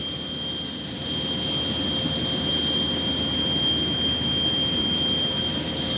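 A steady high-pitched whine from a jet engine at a regional airport ramp hums continuously with a low rumbling roar beneath, moderately distant and unbroken, with no talking.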